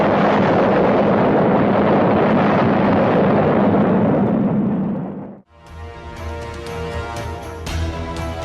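Sound effect of the Fat Man atomic bomb dropped by the B-29 Boxcar bursting over Nagasaki's industrial harbor: a loud, sustained rumbling roar that swells for about five seconds, then dies away and gives way to music.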